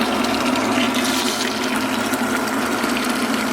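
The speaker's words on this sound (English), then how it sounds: "So plug the pump. And make sure that the water is coming in here. It's circulating through the system." Water pump circulating water through a tankless water heater during a flush, giving a steady, close rushing and gurgling of liquid with a constant low hum, continuous and loud with no talking.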